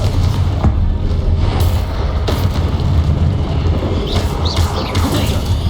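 The Confringo explosive spell goes off in Hogwarts Legacy as deep, booming thuds and bursts layered over a steady loud rumble, with a few sharp cracks standing out.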